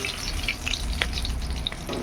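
Hilsa fish pieces frying lightly in hot oil, a steady close sizzle with small crackles and pops, no voices over it.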